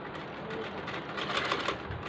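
A sewing machine stitches a kameez for a one-year-old baby girl, giving a steady fast mechanical whir with a rhythmic chatter that swells slightly toward the middle.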